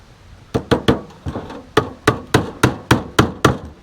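Hammer driving poultry staples into a wooden rabbit nesting box, about a dozen sharp, loud knocks in an uneven then steady rhythm, close by.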